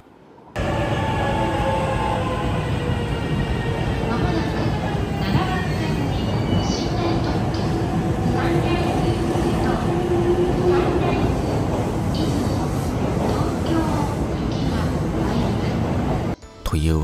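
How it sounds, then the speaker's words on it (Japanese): A limited express Shonan train passes through a platform at Yokohama station without stopping, a loud continuous rumble of wheels and carriages with some rail squeal and clatter that drops away abruptly near the end. "ここでやってきたのは特急湘南号、定期では数少ない横浜駅を通過する列車です"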